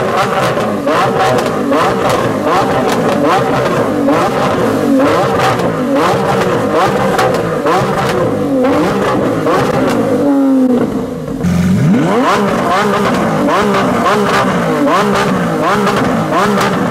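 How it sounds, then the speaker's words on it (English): Lamborghini SVJ supercar fitted with a Balboni exhaust, leaving a London cars-and-coffee meet, its engine revving loud and close in repeated rising and falling sweeps, with other supercar engines in the background. "that's an SVJ fitted with a Balboni exhaust system"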